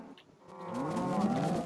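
Cows mooing in a video game, a single drawn-out low moo rising in strength and holding to the end, clear and close with no talk over it.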